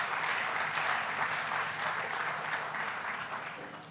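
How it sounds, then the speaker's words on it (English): An audience at New York's Tribeca Film Festival breaks into sustained applause, a dense wash of clapping close and loud that tapers slightly toward the end, with no voices over it. "Let's give a big round of applause to the entire Tribeca team"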